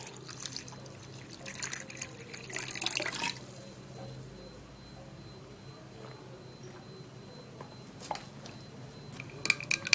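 Water pours into a glass holding a tablespoon of apple cider vinegar, a short faint trickling pour followed by quieter scattered drips.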